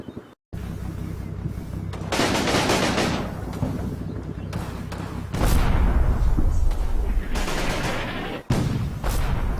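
Artillery and small-arms gunfire from the WWII strategy game Combat Mission: Battle for Normandy, with dense, continuous bursts and booming impacts rolling through the whole stretch, loud and unbroken after a brief silent start.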